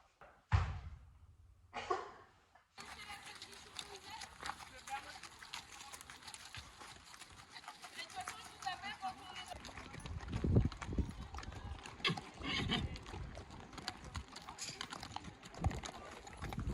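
Horse hooves clip-clop irregularly at the start of a horseback ride, mixed with rustling and people talking close by.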